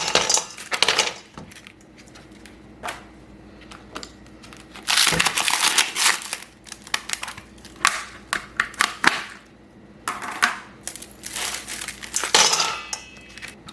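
Plastic ice trays with lids are handled, giving close bursts of crackling, crunching ice and clattering plastic, separated by short quiet gaps.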